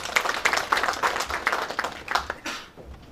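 Uneven clapping from an audience at a university faculties ceremony, welcoming the arriving registrars, with loose bursts of hands that thin out toward the end.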